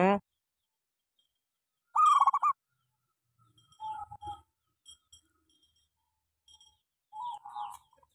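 A local zebra dove (perkutut), badly sick with worms, gives several short, clear cooing phrases separated by silences, close and fairly loud, with faint human sounds between calls.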